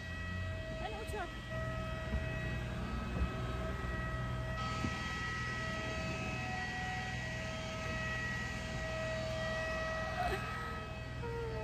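A steady whining hum of passenger airplane engines at the start of a holiday flight, with sustained high tones that shift partway through, heard fairly close and continuous.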